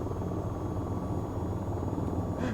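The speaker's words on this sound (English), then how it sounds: "A helicopter flying at nearly 300 knots is possibly some might consider that dangerously high speed for a helicopter." AH-94 attack helicopter flying at very high speed in the VR flight game VTOL VR, a dense, steady rotor and engine roar that holds constant and loud throughout without a break.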